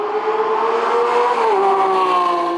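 A sports car with twin exhaust exits drones steadily under way, its engine note holding a sustained, close tone that shifts slightly as revs change, with no talk over it.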